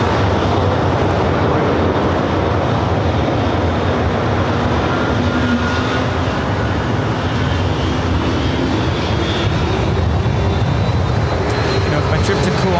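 A United Airlines Boeing 737-800 jet arriving from San Francisco at Los Angeles airport roars steadily and loudly throughout, a broad continuous engine rumble with a slowly rising whine, and a voice talks over it.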